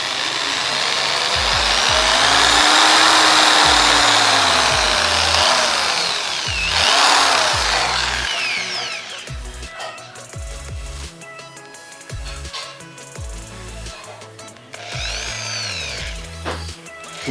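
A Foster FPD-010RE electric drill whines as its speed climbs, the motor pitch rising loudly and close before the whine drops away into lighter rattling and clicks.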